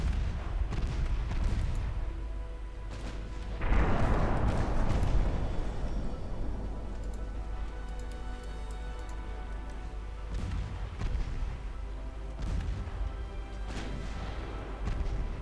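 Naval gunfire and torpedo explosions in the naval warfare game Ultimate Admiral Dreadnoughts: a steady low rumble of cannon fire with a loud booming burst near four seconds and further heavy blasts later, no talking.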